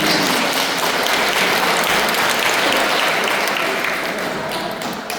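A parish hall audience at Hyehwa-dong church applauds a guest instructor after a training session, a dense, steady wash of clapping that stays loud and fades slightly near the close.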